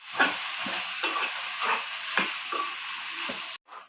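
Tomatoes and onions sauté in a pan for tomato chutney, giving a steady close sizzle broken by repeated stirring scrapes, until it cuts off abruptly just before the end.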